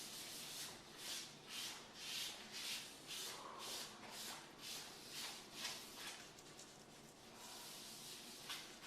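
Granite sealer is rubbed onto a stone countertop in quick back-and-forth strokes, each swipe making a soft, hissing, rhythmic scrubbing sound, close and quiet.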